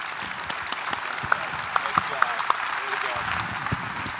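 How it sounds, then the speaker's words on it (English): Conference audience applauding in a large hall at a hospital medicine meeting, a dense steady patter of many hands with a few sharper individual claps and a whistle-like tone, some voices murmuring beneath. "So join me in a round of applause."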